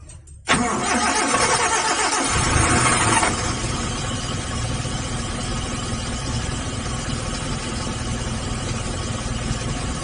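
Suzuki Zebra Espass EFI engine cranks and catches after a brief click, then settles into a steady idle, loud and close; any fuel pump relay clicking is not separately evident beneath the running engine.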